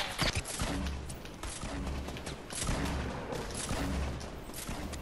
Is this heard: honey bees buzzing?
no